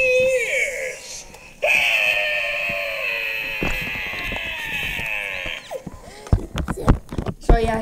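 An animated eye doorbell Halloween prop lets out a long, loud, shrill scream followed by warbling electronic vocal effects, then sharp clattering and rattling bursts near the end.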